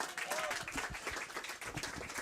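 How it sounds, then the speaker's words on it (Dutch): Brief burst of audience applause for a guest named Ellen on the Frisian live broadcast Noardewyn Live, dense and steady clapping filling the whole short moment. "Applaus voor Ellen!"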